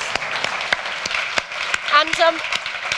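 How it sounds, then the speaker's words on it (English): Applause from an audience at a panel discussion event, with distinct sharp claps spaced out in an irregular rhythm and a voice briefly speaking partway through. "Please give them all a big round of applause."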